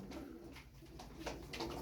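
Tumbler pigeons coo softly and repeatedly in a loft, their low murmuring calls overlapping in a steady, close chorus with faint background noise.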